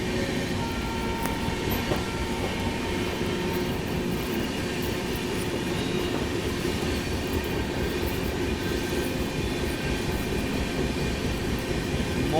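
A Shatabdi Express between Pune and Hyderabad runs at speed while overtaking near Mohol station, heard from inside the coach as a loud, continuous rumble with rhythmic rail clatter and faint wheel squeal, no voices.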